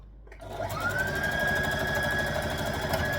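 A sewing machine stitches a dress lining, starting up after a brief pause and then running in a fast, even mechanical whir with rhythmic needle clatter, close and steady, with no talk.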